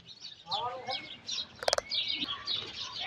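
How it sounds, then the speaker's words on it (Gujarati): Sparrows chirp near a tree in a rural village setting, several quick high tweets and short calls scattered across the moment, fairly close, with a sharp brief clatter in the middle and faint background noise. "અત્યારે જોઈએ ચકલા બોલે છે"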